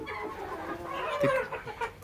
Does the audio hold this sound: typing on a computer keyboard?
no